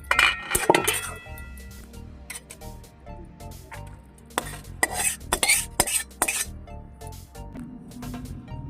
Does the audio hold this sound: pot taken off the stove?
yes